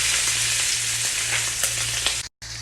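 A second batch of prawns fries in hot oil, giving a steady, close sizzling hiss with light crackles that cuts out for a moment near the end and then resumes.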